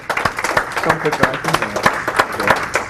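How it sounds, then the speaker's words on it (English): Audience applause at a speakers' forum on faith, dense clapping with cheers and voices mixed through it, steady and fairly loud for about three seconds. "give him a round of applause"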